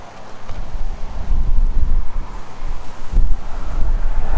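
Strong wind buffets the microphone beside a highway bypass near Gander, Newfoundland, a loud, continuous low rumble that swells and gusts throughout with no voices.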